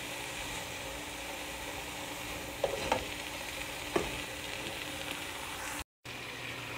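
Chicken and vegetables frying in a pan, a steady sizzle running throughout with a few scraping stirs of the spoon and a brief gap near the end.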